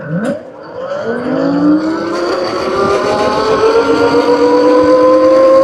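A Heybike Villain electric dirt bike accelerates at full power, its motor whine climbing steadily in pitch and loudness over several seconds, close and alone.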